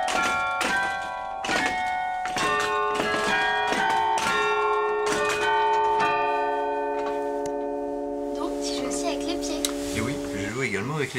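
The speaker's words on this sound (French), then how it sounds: "Pour jouer, on frappe les touches, chacune étant reliée au battant d'une cloche au moyen d'un fil d'acier." Old carillon bells, struck from keys linked to the clappers by steel wires, ring out one after another in bright, ringing tones that overlap and sustain into a long fading decay, with a voice entering near the end.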